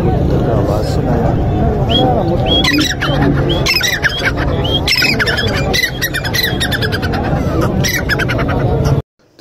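Partridge calls at a busy bird market, loud repeated squawks and chattering bird cries close by over crowd babble and voices, cutting off abruptly at the end.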